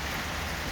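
Steady rain falling during an afternoon storm with hail, lightning and thunder, a dense continuous wash of drops, moderately faint and unbroken with no voices.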